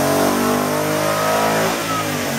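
A twin-turbo 5.0 Coyote V8 Mustang running nitrous revs hard and close, a loud, dense engine roar that holds steady and then eases slightly toward the end, with no talking over it.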